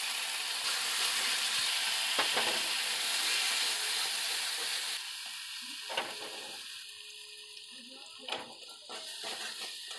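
Spice masala with salt, turmeric, chopped tomato, cumin and coriander powder frying in a wok, a soft continuous sizzle and hiss broken by occasional spatula scrapes and taps, fainter in the second half.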